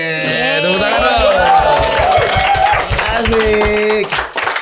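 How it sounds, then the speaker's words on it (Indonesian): A studio audience claps rhythmically in time on an Indonesian talk show, steady beats under loud cheering voices and music. "Tepuk tangan dong."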